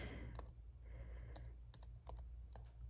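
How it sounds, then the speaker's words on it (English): Slow typing on a foldable Bluetooth keyboard, with sparse, separate key clicks and taps spaced unevenly over a quiet background. "I'm typing slow"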